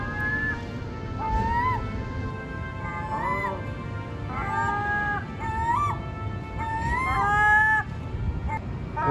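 Seagulls call near the water in Vancouver with several loud, nasal, honking cries in short repeated bursts over a low background rumble.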